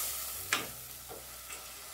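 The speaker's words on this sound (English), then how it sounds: "we are going to add in our mushrooms, like so" Mushrooms dropped into a hot pan give a quiet, even sizzle, with a brief clatter at the start and a couple of faint stirring knocks after.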